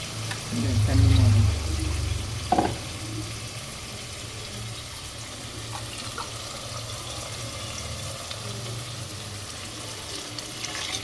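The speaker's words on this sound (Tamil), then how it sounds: "இப்போ மசாலா உள்ள ஊற்றி புளியும் எல்லாம் உள்ளே கரைச்சி ஊற்றிடலாம்" Masala and tamarind water poured into a pan of South Indian fish curry, meen kulambu: a loud gushing splash and sizzle for about two seconds, then a lower, steady simmering hiss with small clinks.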